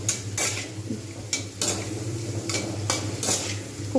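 Garlic frying in a pan for a pea-pod paste dish, with a steady sizzle beneath repeated scraping, clinking strokes of a spoon stirring against the metal, close and fairly loud.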